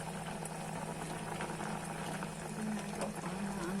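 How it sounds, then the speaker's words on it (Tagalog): Bisugo fish simmering with kamias in a pot, a steady close bubbling boil with a low hum underneath and no talking, continuous through the short stretch. "kumulo na yung ating bisugo na may kamyas"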